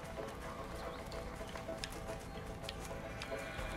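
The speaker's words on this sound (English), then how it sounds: "Let's just hope these horses keep running." Horses gallop in the video game A Way Out, a quick drumming of hooves running steadily at a moderate distance under a dense layer of game sound.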